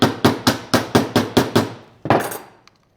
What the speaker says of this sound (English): I want the rivet to hit the wood, not the mask, and I'm just going to give it a tap